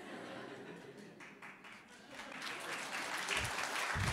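Applause from a conference audience at a talk on pitching to a streaming platform, a steady wash of many hands that grows fuller and louder toward the end, with a bit of laughter mixed in.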